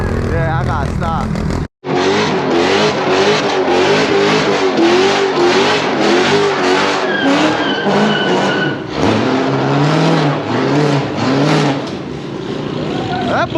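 Dodge Hellcat car revving hard and skidding, loud repeated engine surges and tire screech in a near, rhythmic series, with a brief dropout near the start and excited voices mixed in.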